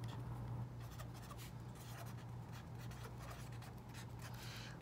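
A marker writing a name on paper during a children's handwriting lesson, with steady scratchy strokes heard close up and alone, over a low constant hum.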